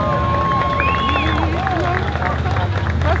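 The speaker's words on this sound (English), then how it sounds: "Crowd still back here," Protest crowd at the Charlotte uprising, a dense roar of many voices with shouting and chant-like calls, steady and loud throughout with no pause.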